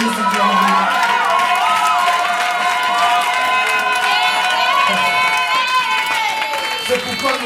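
A church congregation cheers and shouts in praise of God, a steady loud crowd roar with raised voices and some clapping, heard beneath a preacher speaking in French.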